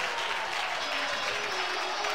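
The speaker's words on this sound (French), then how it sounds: "Et la foule du boomerang là," An arena crowd at a men's university hockey game between Saint-Laurent and André-Laurendeau cheers and claps in a dense, steady roar that fills the space, with a commentator's voice faintly mixed in.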